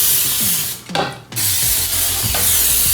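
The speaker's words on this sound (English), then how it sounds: "We're using this spray grease" Short hissing bursts of cooking spray greasing a 14-inch pan, one longer blast followed by a brief second spritz, close up with a faint clatter underneath.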